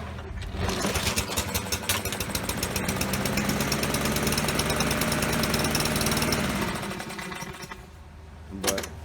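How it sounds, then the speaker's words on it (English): A Husqvarna lawn mower engine fires and runs in a rapid, loud chatter for several seconds after the pull start, then cuts out into quiet with a brief knock at the end. "normally how I like to start a mower, hold this, and I like to push and pull"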